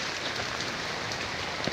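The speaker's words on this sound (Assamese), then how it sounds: "পুৰা বৰষুণ দি আছে" Heavy rain pours at a market, a dense steady patter on surfaces with no talk.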